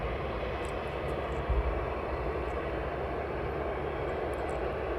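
A DHL Boeing 757 pushes back at East Midlands Airport, its engines giving a steady, broad roar at moderate distance with a brief low thump midway.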